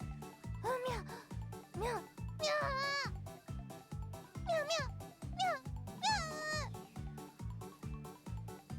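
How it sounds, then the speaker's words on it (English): Repeated plaintive cat meows in the Okayu visual novel game, rising and falling cries over a steady pulsing background rhythm of game music. "I can hear desperation in the cat's cries."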